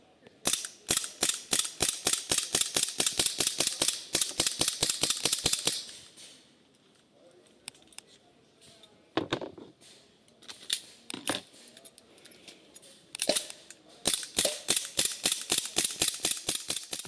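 Rapid bursts of sharp, crisp shots from a Wolverine MTW HPA airsoft DMR fired at an outdoor range, strings of evenly spaced cracks in fast succession, then a quieter gap with a few isolated shots, then another rapid string.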